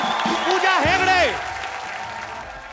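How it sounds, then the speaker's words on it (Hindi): Studio audience applause on The Kapil Sharma Show welcomes guests Ashutosh Gowariker and Pooja Hegde to the stage: a steady wash of clapping that swells briefly and then eases, with a voice and tonal sounds riding over it. "आप सबकी जोरदार तालियों के बीच"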